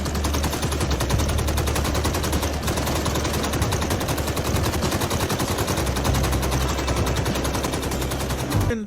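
Sustained rapid automatic gunfire from a shooter video game rattles on for nearly nine seconds, loud and continuous, with a constant low rumble beneath the shots.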